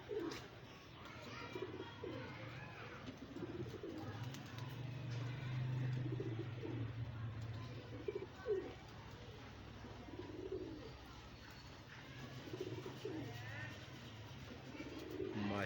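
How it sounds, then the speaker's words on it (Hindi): A pigeon coos repeatedly, with soft low rolling calls at a moderate distance over steady background noise and occasional faint talk. "और ये तो गिजा गिजाया कबूतर है ये"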